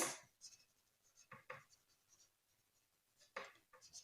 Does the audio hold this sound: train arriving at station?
no